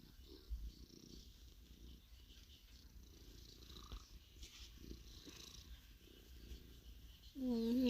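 A pet cat named Putin purrs steadily and close up while being hugged, a continuous low rumbling throughout, with a brief soft noise near the end.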